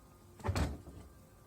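A rust-treated door swings on its hinges with a single soft, low thud-like movement and no squeak, close and quiet.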